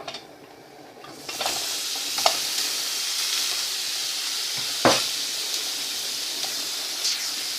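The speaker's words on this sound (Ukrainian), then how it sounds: "В розігріту сковороду викидаємо м'ясо." Chicken breast sizzles loudly in a hot pan, a steady crackling hiss that starts abruptly, with occasional scraping stirs and sharp pops.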